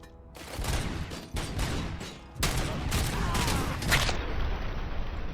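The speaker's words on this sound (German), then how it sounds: "Was ist da denn explodiert?" Explosion and rapid bursts of gunfire in the video game RoboCop: Rogue City, dense and continuous, a loud blast near the middle followed by more sustained firing.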